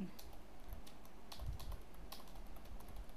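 Quiet, quick clicking of typing on a computer keyboard while code is entered, with irregular light keystrokes and no talk.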